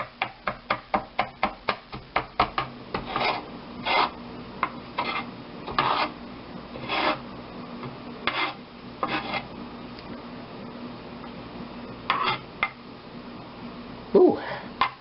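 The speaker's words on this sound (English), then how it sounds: "Now, chop these just as finely as we can." A knife finely chops vegetables on a cutting board, starting with a quick run of rapid, even taps that later turns into slower, irregular thumps and scraping strokes. The sounds are close, with faint background noise between them.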